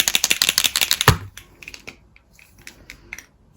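A pink paint marker pen is shaken hard to prime it, its mixing ball giving a fast run of sharp, even rattling clicks for about a second, then only faint scattered ticks.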